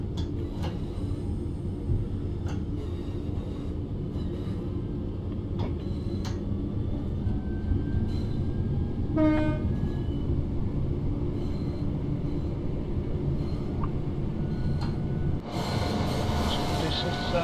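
A Class 323 electric train in Train Sim World 4 rolls on a steady low rumble. Sparse ticks and clicks sit over it, a short tonal whine rises midway, and a burst of hiss comes near the end.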